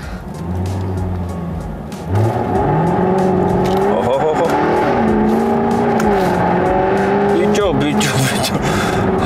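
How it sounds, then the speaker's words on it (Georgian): A Jaguar F-Type R makes a standing launch start in sport mode with traction control off, the engine revving loud and close, then surging as the car pulls away, with tire noise and someone talking over it. "როგორია ადგილიდან სტარტი, სპორტული რეჟიმიც და აგრეთვე გავთიშეთ მოცურების საწინააღმდეგო სისტემაც."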